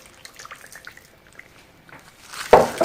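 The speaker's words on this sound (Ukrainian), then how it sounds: "Виливаю в мене 200 мл молока, виливаю до курочки." Milk is poured onto chicken wings, at first as faint scattered drips, then as a louder gushing splash near the end.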